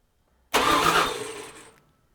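A 1979 Toyota Cressida fitted with a 5.4L V8 gives one short, loud cranking burst lasting just over a second. It catches briefly, then fades out, with no talk.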